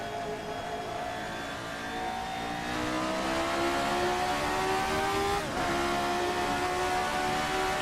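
An RSS Formula 79 race car engine in a racing simulator revs hard with a rising, harmonic-rich whine and a brief dip at a gear change, then keeps climbing, loud and continuous with no talking.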